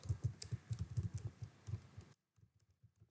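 JavaScript code being typed on a computer keyboard, a quick run of close, crisp keystrokes in an uneven rhythm that breaks off, followed by a few fainter, muffled taps.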